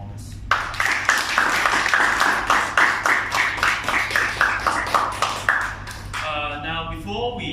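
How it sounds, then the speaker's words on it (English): A debate audience gives the debaters a round of applause, a dense steady wash of many hands clapping that runs for several seconds and then cuts off, leaving a murmur and faint voices. "let's give them another round of applause for their wonderful performance"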